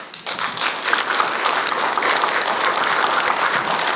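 An audience bursts into sustained applause, many hands clapping densely and steadily at close range without a break.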